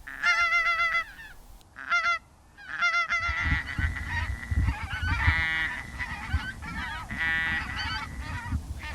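Geese honk loudly and repeatedly over a field of decoys during a goose hunt, their overlapping calls coming in rapid bursts against a low rumbling outdoor background.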